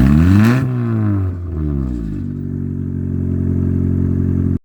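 A Honda Civic with a straight-pipe exhaust fires up with a loud, rough roar. It revs up and down through the first two seconds, then drops into a steady, raw idle that runs close and loud until it cuts off abruptly.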